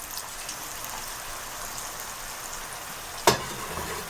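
Chopped green onions fry in hot oil in a pan on the stove for a spring onion curry, giving a steady soft sizzle with a single sharp clatter of a utensil near the end.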